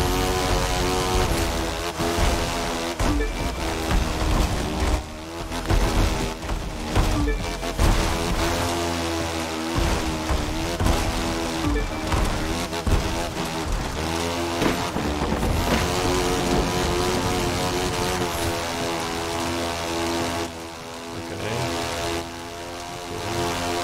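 A Suzuki GSX motorcycle engine screams at high revs while racing fast in The Crew 2, a loud sustained whine with shifting pitch that runs continuously, now and then overlapped by game sound effects.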